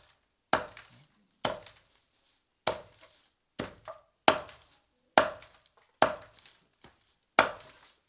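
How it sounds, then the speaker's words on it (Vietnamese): A knife minces food into small pieces with eight crisp, evenly spaced chops, each a sharp close knock that decays quickly, with quiet between strikes. "Bây giờ em sẽ băm. Đấy, băm ngắn nhỏ nhỏ."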